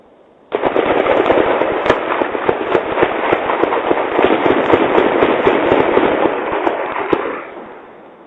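Rapid, sustained gunfire caught on a front-door Ring doorbell camera during a deadly shooting of police officers in Syracuse, New York: a dense burst of many loud cracks lasting about seven seconds, then cutting off abruptly.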